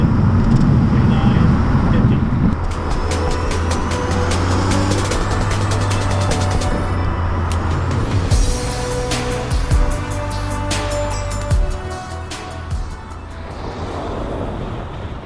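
A car rolls at 50 km/h on winter tires, a steady loud road roar and low rumble heard from inside the cabin, with clicking ticks partway through and a voice talking over it.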